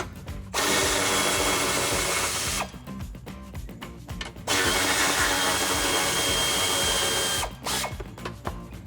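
A power tool with a 16mm socket spins out bumper bracket bolts on a Jeep Wrangler JL, two long whirring bursts alternating with quieter ratcheting clicks, close up.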